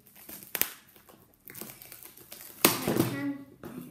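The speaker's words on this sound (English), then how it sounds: "First thing I need to unwrap it because we just came back from my country." A package brought home from a trip is unwrapped close by, with crinkling plastic and paper, scattered taps and rustles, and a louder burst of crumpling near the end.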